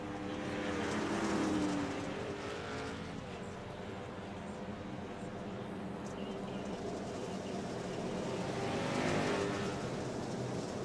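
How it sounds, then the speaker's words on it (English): Race cars on a racetrack roar together as they accelerate out of a corner under green-flag racing, a steady, loud engine drone that swells slightly near the start and end, with a commentator talking over it. "Green flag racing here as they come out of the corner."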